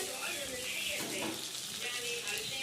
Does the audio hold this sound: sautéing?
yes